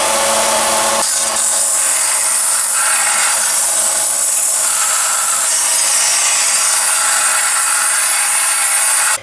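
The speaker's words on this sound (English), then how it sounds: "I'm just going to change to a 80 grit sandpaper and go over this again to try to get it a bit more cleaned up" Wood being sanded by hand with 80 grit sandpaper, a steady close scratchy rubbing that runs continuously and loud throughout, with no talk.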